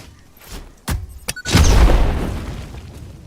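A grenade in Satisfactory goes off with a loud, close boom after a couple of sharp thumps, leaving a rumbling tail that fades over a second or two, with no voices.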